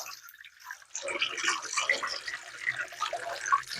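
Hot water gushing steadily from a hose pipe attached to a hot water tap, a continuous splashing rush that starts after a brief quiet moment and runs on at moderate loudness.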